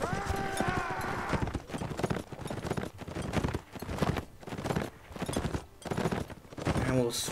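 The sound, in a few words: horse hooves clip-clopping in Mount & Blade video game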